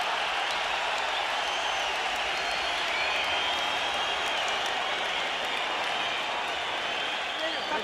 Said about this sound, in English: A fight breaks out in the middle of the boxing match, and the crowd goes nuts.